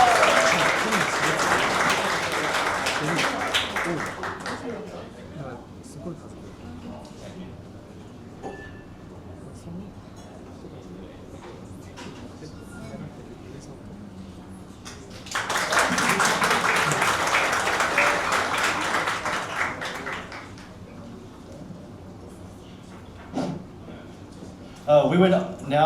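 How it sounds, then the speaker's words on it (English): Audience at an entertainment-industry awards event in a warehouse venue applauds award recipients, two sustained rounds of clapping separated by a quieter stretch with talk and low murmur. "Please give them a round of applause."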